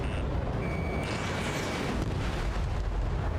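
A broad, roaring explosion as an aircraft is destroyed in the Ace Combat 7 flight combat game, a dense, sustained blast rumble that fills the whole short stretch alongside engine noise.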